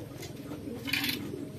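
A pigeon coos softly nearby, a low throaty burbling call repeated over faint background noise.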